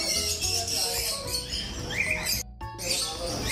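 Small birds chirping and tweeting in a busy pet shop in Saudi Arabia, with scattered calls over a steady indoor murmur and a brief break partway through.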